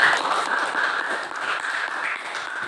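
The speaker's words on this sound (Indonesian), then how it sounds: "Tepuk tangan untuk kawannya Apik Al-Faiz." A classroom of children applauding a classmate, a continuous dense patter of many small hands clapping together, steady and fairly loud throughout with no voices standing out.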